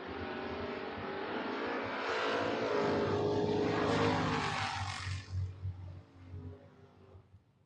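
Drag racing cars, a Ford Mustang and a Dodge Dakota, roar at full power in a loud sustained engine blast that builds, then drops off and fades as they pull away.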